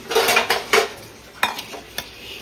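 Chana dal is tipped into a metal pot with a few sharp clinks and rattling scrapes of a spoon against the vessel, close and fairly loud, spaced irregularly with quiet gaps between them.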